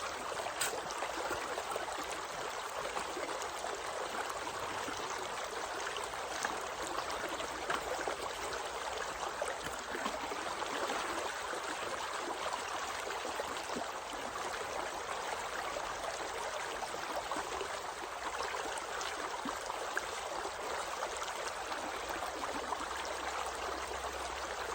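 Gold panning in a stream, with steady, continuous running water rushing evenly throughout and no distinct pan swishes standing out.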